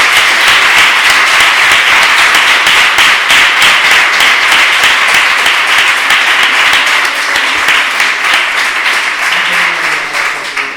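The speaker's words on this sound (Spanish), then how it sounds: "pido un aplauso muy fuerte para esa cosa" Loud, sustained applause from an audience at an author talk in a public library, dense clapping filling the whole stretch without letting up, no voices over it.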